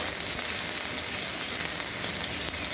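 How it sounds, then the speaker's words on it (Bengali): Chopped garlic, onion and green chili frying in a pan, a dense even sizzle that stays constant and close throughout, without any talking. "রসুন কুচিটাকে হালকা করে একটু নাড়াচাড়া করে এর মধ্যে দিয়ে দিলাম পেঁয়াজ কুচি আর লঙ্কা কুচি এবারে এটা একটু লাল করে ভেজে নেব"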